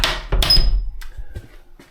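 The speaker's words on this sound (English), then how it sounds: "I think I'd better shut the front door" The front door of a 19th century Welsh bothy swings shut with a solid wooden thud and a brief rattle of the latch, close by, then a few small knocks as it settles.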